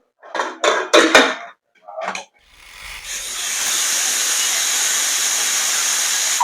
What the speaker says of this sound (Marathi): इथे आपल्या कुकरचे 4 शिट्ट्या झालेल्या आहेत.